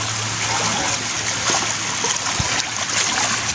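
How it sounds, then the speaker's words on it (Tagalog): Floodwater pouring into a house in Iligan during heavy rain and wind, a steady rushing and trickling wash with scattered splashes, close by, alone and continuous. "Yung tubig pumasok na sa bahay"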